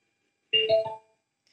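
A KOLKE sound system's Bluetooth board plays its short connection tone: a single brief electronic chime with a couple of clear pitched notes, sounding alone against near silence.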